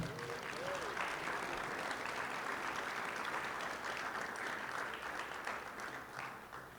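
A banquet crowd at the Rialto Sports Hall of Fame 2024 ceremony applauds the Honorable Joe Baca Sr., a steady, even roar of many clapping hands heard at a distance, fading slightly at the end.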